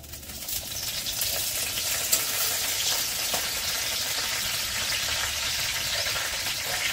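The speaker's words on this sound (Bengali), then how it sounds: "এরপরে তোমার খিচুড়িটা ছুকবো, তো তার জন্য আমাকে ফার্স্টে তেজপাতা দিয়ে দেবো।" Bay leaf and whole spices sizzling in hot oil as tempering for khichuri, a steady, even hiss of frying that carries on without a break, with no voices.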